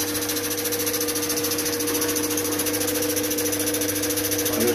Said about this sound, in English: I'll just do a quick polish on this.